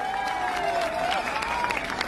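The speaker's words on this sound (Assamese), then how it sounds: "এটা সুন্দৰ হাত চাপৰি হ'ব লাগে" An audience at a lottery draw for a Land Rover Defender first prize claps steadily throughout, a dense continuous applause with crowd noise and a voice heard over it.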